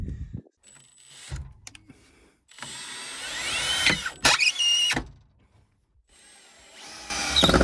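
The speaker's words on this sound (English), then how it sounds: "just drilling a hole in a perfectly good wall" Power drill boring a hole into a cabin wall, heard in several bursts with short gaps between them and a whining pitch that rises as the bit spins up, close and fairly loud, with no talking.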